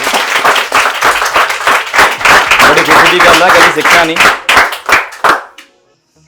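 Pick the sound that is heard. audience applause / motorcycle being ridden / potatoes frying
audience applause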